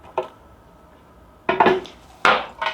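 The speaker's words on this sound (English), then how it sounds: "Okay, into the blender they go." A light tap, then clattering bursts as garlic scapes drop and knock into a blender jar, close by, with short gaps between.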